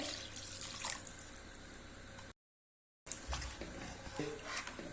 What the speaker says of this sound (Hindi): एक गिलास पानी डाल देंगे।